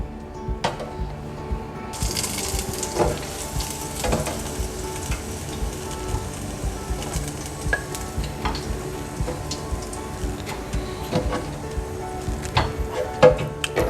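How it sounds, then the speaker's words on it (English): Chicken meatballs deep fry in oil at 190 degrees, a steady crackling sizzle broken by intermittent stirring clatters and knocks, close and continuous for the whole stretch. "I'm just going to add the meatballs in here and then fry"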